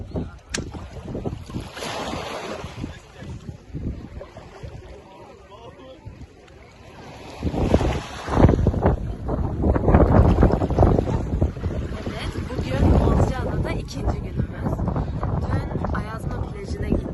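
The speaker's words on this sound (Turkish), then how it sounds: "Çok rüzgar var ve yine deniz çok soğuk" Strong wind by the sea roars and buffets the microphone in gusts, with the rumble of waves beneath and people talking intermittently over it.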